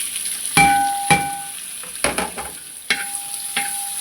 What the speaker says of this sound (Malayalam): ഇത് നല്ലതുപോലെ വറുത്തിയെടുക്കുക.